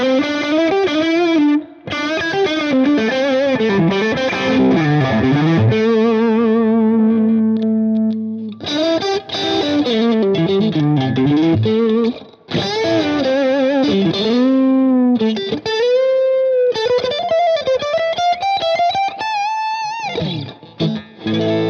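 Electric guitar runs through a Boss pedal emulating a Marshall amp, producing loud, distorted chords and sustained bent notes in bursts separated by brief pauses, with no talking.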